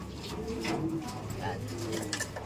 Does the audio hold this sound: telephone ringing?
no